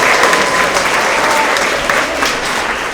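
A school crowd applauds science award winners at a spring award assembly, a thick, continuous burst of clapping from a large audience in a hall.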